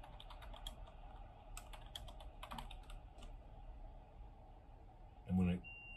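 Quiet clicking of someone typing on a computer keyboard in a library special collections office, scattered keystrokes in small clusters, with a brief louder sound near the end.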